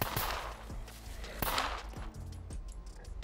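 Gunfire in the survival game SCUM near a naval base: several sharp, loud shots spaced irregularly, with distant echoing reports and a low rumble between them, no talking.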